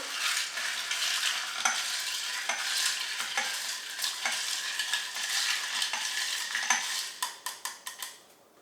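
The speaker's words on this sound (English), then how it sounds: "We'll give that a stir." A spoon stirs a Dark 'N Stormy cocktail of rum and ginger beer, giving a continuous run of clinking, scraping strokes against the glass and ice. It ends in a few separate, slowing taps.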